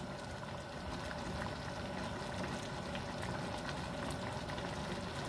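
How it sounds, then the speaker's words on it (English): Sweet and sour sauce simmers in a pot, a soft, continuous low bubbling that stays fairly faint and even throughout, with no voices. "You don't want to boil it, you want to simmer it."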